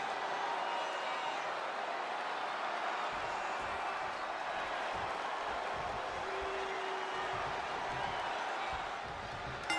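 Arena crowd in the WWE 2K20 wrestling video game, a broad continuous murmur of cheering at a tag team match, fairly soft, with commentators talking over it.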